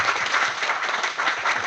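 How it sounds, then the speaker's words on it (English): An audience applauds at a women in tech celebration meeting, a steady burst of dense clapping throughout, moderately loud and close. "So a round of applause for them as well."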